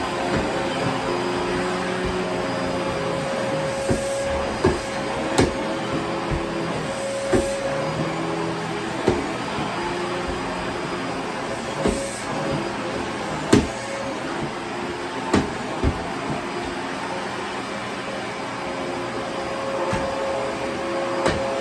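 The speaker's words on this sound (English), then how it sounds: "It's a canister style vacuum cleaner as opposed to the upright." Kenmore Elite 700 canister vacuum cleaner with a Pet PowerMate head, running steadily and close by with a constant whining drone and a few faint clicks and bumps, no talking.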